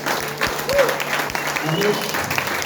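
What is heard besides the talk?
church congregation applauding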